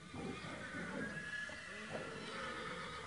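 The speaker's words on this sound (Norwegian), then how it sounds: "Her kan du hjelpe meg å stelle med hesten min." A horse whinnies in a stable in the 1996 PC game Josefine, a clear neigh with some hoof clip-clop, heard alone and close.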